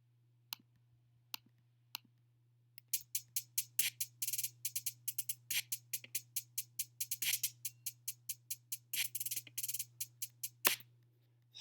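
A hip hop beat pattern plays faintly: a steady run of crisp ticking hi-hats over a low sustained bass tone, with occasional sharper accents. It starts with sparse hits and then fills into rapid repeating hats.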